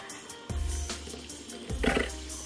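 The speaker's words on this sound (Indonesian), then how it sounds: "Tadi putih telurnya tambahkan kurang lebih 50 ml air" Water poured into egg whites in a bowl, about 50 ml, while preparing sausage risoles, heard as two short close splashing pours with quiet pauses between them.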